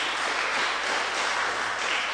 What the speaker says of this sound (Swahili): tumpigie makofi mazuri na kukaribia